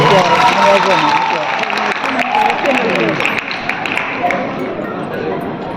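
Audience clapping at a Thiruvathira dance competition prize-giving in a theatre, a dense, steady wash of applause from a crowd with voices mixed in throughout.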